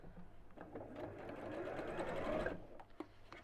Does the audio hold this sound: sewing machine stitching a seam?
yes